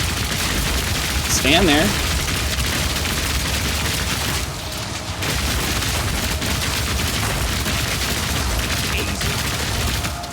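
Boomstick blasts from a frozen Witch Hunter build in Path of Exile 2 thump repeatedly amid dense combat noise, with someone speaking briefly over the din.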